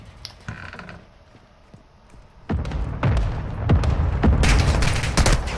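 Gunfire in the game Warzone 2: a quiet opening with a few faint thuds, then from the midpoint a loud, dense run of shots and bursts that keeps going to the end.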